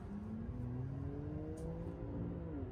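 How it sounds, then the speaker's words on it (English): A BMW M2 accelerates hard onto a highway toward its rev limiter, a steady loud engine drone with rising then shifting tones, heard from inside the car. "about to rip the M2 onto the highway"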